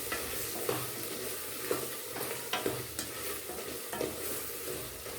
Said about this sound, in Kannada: ಇವೆಲ್ಲ ಒಂದು ಸ್ವಲ್ಪ ಎಣ್ಣೆಯಲ್ಲಿ ಚೆನ್ನಾಗಿ ಕದಡ್ತಾ ಬನ್ನಿ